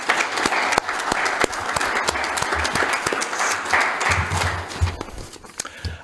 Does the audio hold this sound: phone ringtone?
no